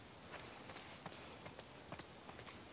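Horse hooves clop at a steady walking pace in The Last of Us Part II, a faint run of soft, evenly spaced footfalls over a low background hum.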